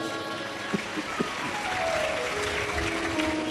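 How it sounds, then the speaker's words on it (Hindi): A large devotional gathering at a Shiv Mahapuran katha in Burari, Delhi claps together, a steady wash of crowd applause sustained for several seconds with a few sharper hits early on. "एक बार जोरदार ताली बजाओ।"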